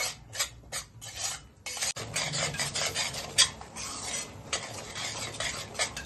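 A spoon scrapes and stirs semolina roasting in ghee in a heavy kadai, producing repeated close rasping strokes in an uneven rhythm with a light sizzle beneath, fairly quiet and without voices.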